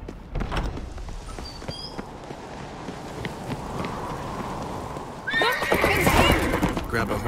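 Horse neighs and clip-clopping hooves in The Witcher 3 video game, hoofbeats running throughout and a loud whinny bursting in near the end over a background game ambience, with characters speaking.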